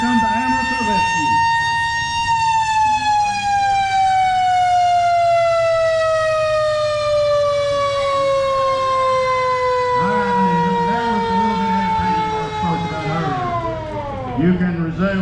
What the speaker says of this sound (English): Here comes the ambulance to the rescue.